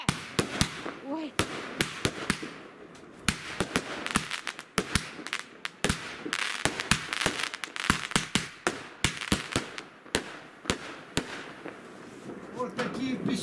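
Small firecrackers pop in a rapid, irregular series of sharp cracks at New Year, some near and loud, others fainter, with occasional voices in the background.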